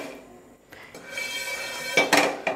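A spoon scrapes and clinks against a pan while tea masala spices dry roast over high heat, with short metallic knocks and rattles that grow louder and sharper toward the end.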